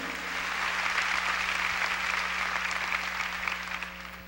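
A church congregation claps loudly for the Lord during a Spanish-language sermon on end times; sustained, dense applause fills the room with a steady low hum beneath it.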